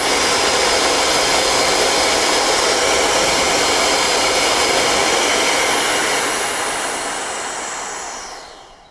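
A Roedix R9 electric air duster, a 150000 RPM blower, runs close up with a loud, steady, rushing whine that holds without a break and then starts to wind down at the end. No one speaks.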